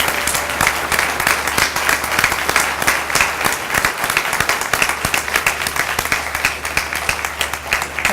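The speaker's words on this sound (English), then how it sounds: "Would you please give them another round of applause?" Sustained applause from a graduation audience for workforce program graduates, a dense steady wash of many hands clapping alone throughout, with no talk over it.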